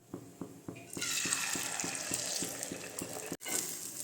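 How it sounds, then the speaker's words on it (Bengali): An egg dropped into a hot pan of oil at home bursts into a steady, close sizzle after a few light, regular taps, the frying hiss continuing evenly to the end. "এখন ভাজবো একটুখানি হচ্ছে শুধু ডিম"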